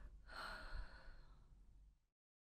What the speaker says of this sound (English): Do y'all hear that breathing?